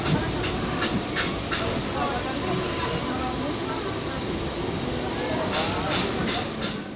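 A Howrah to Digha local train runs past with a steady, loud rumble and intermittent sharp wheel clicks, and a voice talks over it.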